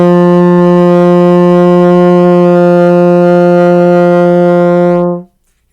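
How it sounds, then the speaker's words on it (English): A baritone horn sounds a single sustained F, steady and loud for about five seconds before cutting off cleanly into silence. "Here is what an F sounds like."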